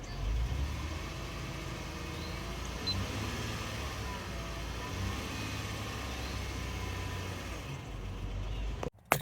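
A 2005–2010 Honda Odyssey engine runs after an oil change, a steady low idle hum that rises slightly as it is revved a little, heard from nearby before cutting off abruptly with a clatter at the end.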